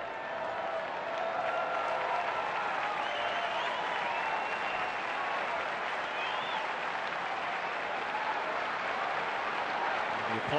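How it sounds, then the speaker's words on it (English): A baseball stadium crowd at a Nationals–Cubs game applauds an injured fan, sustained broad clapping and cheering from a large distant crowd, with a broadcaster's voice faintly underneath. "Applause for the fan who was hit on his feet, smiling"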